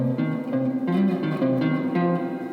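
A bass guitar plays the opening lick of the outro of a song, a quick run of several plucked notes heard close and alone with a clean, slightly reverberant tone.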